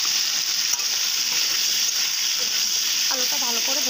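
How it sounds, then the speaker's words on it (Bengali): Potatoes seasoned with turmeric and salt fry in hot oil, giving a steady, loud, close sizzle throughout, with a few clinks of a utensil near the end. "তেলটা গরম হয়ে গেল, এখন আমি আলুটা ভেজে নেব"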